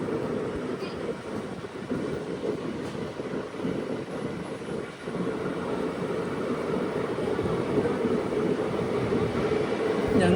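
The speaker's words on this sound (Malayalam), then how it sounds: "8:15 നീലേശ്വരത്ത് നിന്ന് ഇതാ ട്രെയിൻ എടുത്തു" A train hauled by a WAP7 electric locomotive pulls out of Nileshwar, heard from inside an S5 sleeper coach as a steady low rumble and rolling clatter that builds slightly over time.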